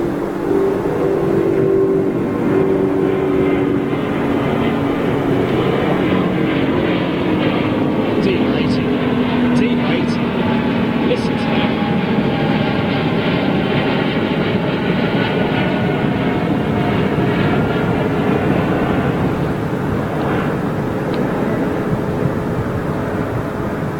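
An airliner powered by Rolls-Royce Trent XWB engines departs Heathrow Airport, a loud, sustained engine roar with rising and falling tones as it passes, while people talk over it.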